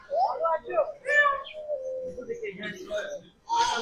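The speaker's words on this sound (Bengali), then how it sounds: "আমরা দেখতে পাচ্ছি কবুতর" Pigeons of various species at a zoo in Srimongol give soft cooing and chirping calls close by in the evening, mixed in with people talking.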